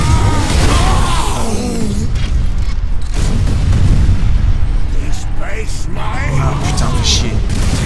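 Heavy gunfire and booming explosions in the Space Marine video game, dense bursts and blasts filling the whole clip while a player talks over the chaos.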